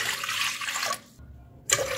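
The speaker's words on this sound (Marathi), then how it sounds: "आता या पातेल्यामध्ये मी घेते 5 ग्लास पाणी।" Water poured from a glass into a cooking pot, a steady rushing splash that stops briefly, then a short final pour.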